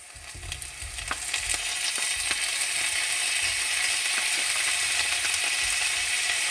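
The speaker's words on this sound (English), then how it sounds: "Okay, so the onions are caramelizing and going nice and brown. So let's add our tomatoes." Onions and tomatoes sizzle loudly in a heavy-based frying pan during a mushroom, pepper and garlic butter stir fry, a steady hiss with a scrape or two as the food is stirred.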